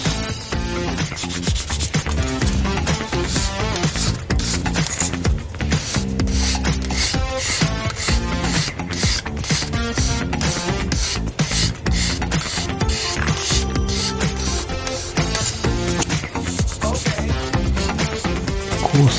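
Steady, fast rasping strokes as parting lines are scraped and cut away on an Aoshima 1/24 Initial D AE86 Trueno/AE85 Levin plastic model kit, close and continuous with no talking.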